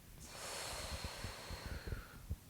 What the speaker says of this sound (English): Exhale through the chest and then the belly.